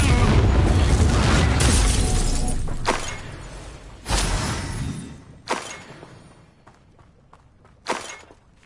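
Confringo fire spell blasts in Hogwarts Legacy on PS5, a loud roaring burst that fades, followed by several sharper explosive impacts spaced a second or so apart, with no talking.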